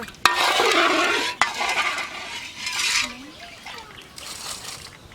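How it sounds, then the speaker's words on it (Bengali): In a village kitchen in Bangladesh, sugar is stirred in a pot to dissolve it for giant jalebis. A spoon swishes and scrapes steadily with a couple of sharp knocks against the rim, and a voice is heard faintly. "আমরা এখন এটা সুন্দর করে নাড়াচাড়া করে চিনিটা গুলায় নেব।"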